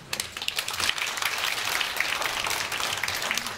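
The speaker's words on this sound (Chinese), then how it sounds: "我们一个掌声好不好？" Members at a rheumatoid arthritis patients' association general meeting break into applause, a dense crowd clapping that starts sharply and holds steady and fairly loud, with no one speaking over it.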